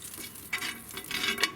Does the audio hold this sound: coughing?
no